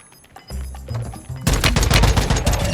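Rapid machine gun fire from a customized John Wick 2 style gun build in a video game, a dense loud rattling burst that swells after some lighter in-game sounds.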